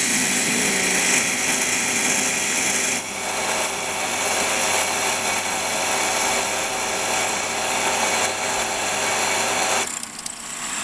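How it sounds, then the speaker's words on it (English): A Warco metal lathe drills right through a workpiece with an 8mm drill, a steady high whining hum of the running machine that holds nearly constant, then drops away near the end. "So next up, I'm going to go right through with an 8mm drill."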